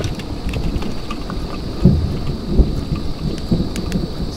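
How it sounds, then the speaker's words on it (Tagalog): Rain falling at a riverside camp with thunder, a steady hiss of rain overlaid by several low rumbling thumps of thunder, with no talk. "Ulan."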